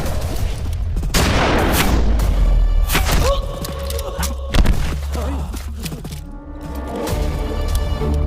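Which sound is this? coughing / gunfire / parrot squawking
gunfire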